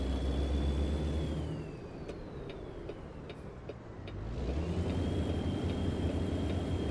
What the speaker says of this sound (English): I absolutely love the sound of this truck